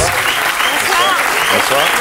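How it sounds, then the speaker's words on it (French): Studio audience applauding Enrico Macias on a French television talk show, a dense, steady wash of clapping at full loudness throughout, with a voice faintly audible within it. "Sous vos applaudissements. Enrico Macias."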